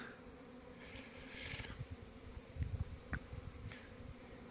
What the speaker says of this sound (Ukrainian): бджілки почали знову працювати